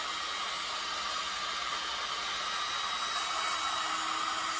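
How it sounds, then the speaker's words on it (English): A handheld heat gun blows hot air in a steady, loud, unbroken hiss at close range, with no talking over it. "This is a heat gun."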